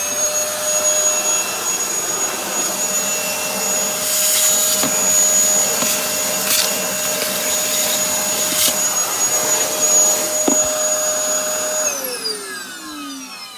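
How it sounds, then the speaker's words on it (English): A worn-out Hoover vacuum cleaner whines steadily up close with an even motor tone, with occasional rattly bursts as sawdust is sucked off the floor, then the motor winds down. "This Hoover's had it. It's a vacuum cleaner, should I say."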